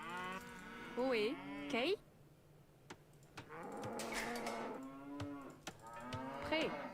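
Cattle in the Diablo 2 video game give several drawn-out, bellowing moos, one after another, loud and near, with brief quiet gaps and a few short spoken interjections.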